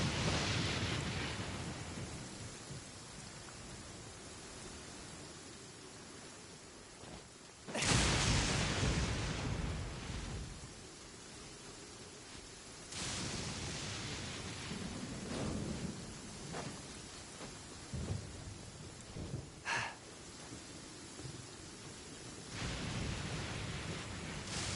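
Thunder rolls and cracks through a steady wash of rain, with a sharp loud clap partway through followed by lower rumbles and a few more distinct bursts, all without voices.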